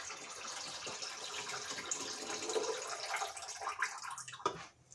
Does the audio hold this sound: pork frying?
no